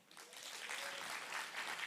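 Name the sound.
applause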